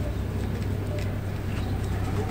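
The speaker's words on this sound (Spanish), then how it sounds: "Tengo rolones de monte." A Dominican forest dove, the rolón de monte, gives a low, steady cooing against faint background noise, close and fairly soft, with no one speaking.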